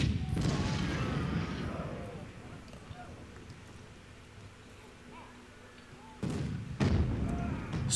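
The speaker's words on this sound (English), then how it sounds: "we do have some cannons here, so we're going to fire on the ironclads" Cannons fire on ironclads in the Civil War strategy game Ultimate General: Civil War, with booming blasts at the start and near the end and quieter rumbling battle noise between them, under someone talking.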